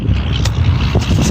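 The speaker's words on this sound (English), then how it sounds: "Trying to cover the speaker to cover up some of that wind noise" Wind rushes across a partly covered microphone during metal detecting in a Louisiana field near a highway, as a steady, close, low rumbling roar.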